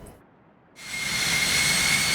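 Cessna Citation business jet on a ten-mile final approach in the X-Plane 12 flight simulator: after a brief near-silence, a steady loud jet engine roar with a high whine rises abruptly and holds.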